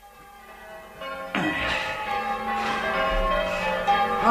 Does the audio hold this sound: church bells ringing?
yes